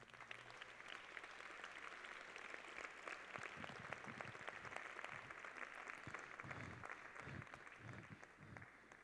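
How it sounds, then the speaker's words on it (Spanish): Congregation applauding during a Spanish-language church sermon, a dense steady patter of many hands clapping at moderate distance with no voices over it. "Dale un fuerte aplauso a Dios"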